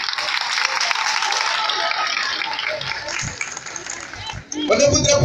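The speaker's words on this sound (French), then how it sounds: "Je voudrais que vous acclamez cela." An audience at a speech by a twins' association president applauds, a broad wash of clapping that fades, then a voice speaks over renewed noise near the end.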